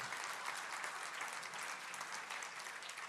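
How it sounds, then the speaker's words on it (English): Sustained applause from an awards gala audience, a dense, even wash of clapping hands with no pauses, fairly distant and steady throughout. "Another round of applause."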